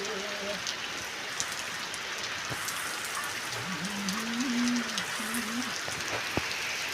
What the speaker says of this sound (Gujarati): વરસાદની રાહ જોતા હતા અને વરસાદ આવી ગયો